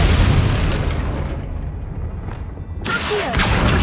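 A Confringo explosion spell going off in Hogwarts Legacy, a deep, loud boom that rumbles and fades over a couple of seconds before a fresh burst of crackling impact noise cuts in.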